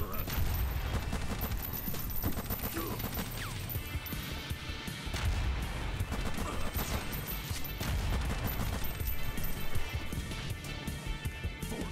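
Rapid AK rifle gunfire from the side-scrolling action game Huntdown, dense repeated shots and crashes running loud and continuous under busy game music and effects throughout.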